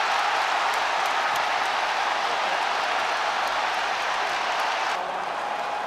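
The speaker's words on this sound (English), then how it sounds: "The elation of the Welsh in the crowd." Welsh rugby fans in a World Cup knockout stadium crowd cheering after a try, a dense sustained roar that stays loud and steady before easing slightly near the end.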